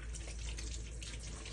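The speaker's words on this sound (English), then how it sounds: "At this point, we will wash our hands." Tap water runs steadily into a sink as hands are washed during a hand-hygiene routine, a continuous close hiss of flowing water with no talk.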